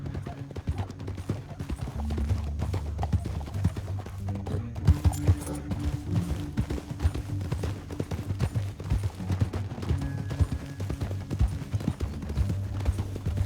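Rapid, steady hoofbeats of a galloping horse in Red Dead Redemption 2, loud and continuous, with low rumbling underneath and no talking.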